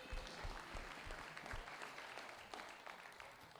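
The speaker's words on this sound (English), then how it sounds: "Can you guys give a round of applause for the video and crew here?" Crowd applause at a live real estate investors' event, dense clapping with sharp low thumps near the start that thins slightly toward the end, fairly faint and with no talk over it.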